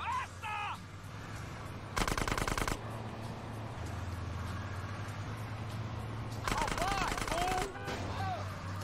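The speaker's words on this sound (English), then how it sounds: "how am I supposed to drive and shoot them at the same time?" Gunfire bursts from GTA San Andreas during a driving mission, two loud rapid machine-gun volleys about four seconds apart over a steady car engine drone, with brief voice sounds near the start and end.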